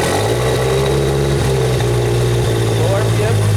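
Genie boom lift engine running close and loud, a steady mid-pitched drone whose speed shifts between low and high RPM, with people talking over it.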